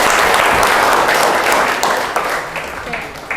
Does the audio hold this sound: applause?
yes